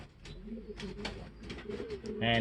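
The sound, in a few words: racing pigeon cooing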